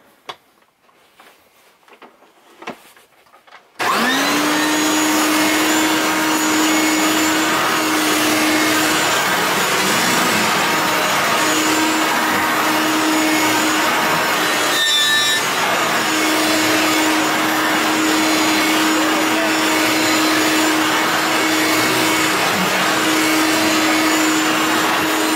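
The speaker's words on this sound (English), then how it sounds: "There it is, the Hoover Elite 700 model" Hoover Elite 700 upright vacuum cleaner, model U4511, switching on and running over carpet full of pine needles: a loud steady motor drone with a constant whine that stays level, with a brief disturbance midway.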